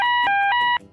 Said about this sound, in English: If you go past the signal, you will hear this alarm.